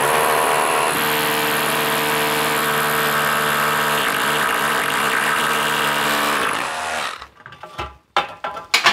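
A power drill whirs loudly at a steady high pitch, bogging slightly as it bites into a wall, then stops, followed by a few knocks and rustles.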